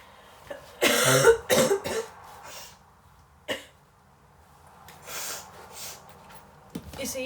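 Several harsh COVID coughs burst out close by in a quick cluster, followed by a lone cough, then quieter breathy sounds and a throat noise.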